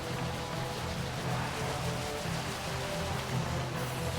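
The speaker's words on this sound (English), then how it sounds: "Yeah, man, the rain." Steady rain in the video game Final Fantasy XII, a dense, even hiss of falling water that continues without break, fairly loud and close, with no talk over it.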